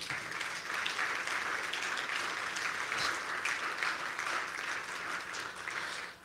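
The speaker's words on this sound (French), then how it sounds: "Est-ce qu'on peut acclamer pour le roi des rois?" A church congregation bursts into sustained, dense applause, many hands clapping together at a steady loud level before tapering off at the end.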